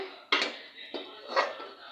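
Three metallic clanks of a wok being set down and shifted on a lit stove, close and distinct, with a faint ringing between them.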